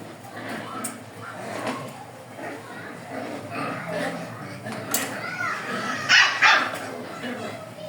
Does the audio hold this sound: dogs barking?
yes